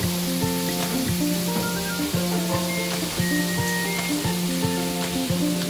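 Beef sizzling in a hot pan, a steady hiss of frying heard close by throughout, with rhythmic background music playing over it.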